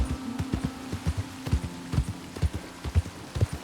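Horse hooves clip-clopping at a steady walking rhythm in Red Dead Redemption 2, distinct thuds repeating evenly over a low hum, close and clear.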